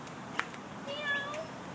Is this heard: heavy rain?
no